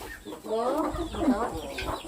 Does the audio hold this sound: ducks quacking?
yes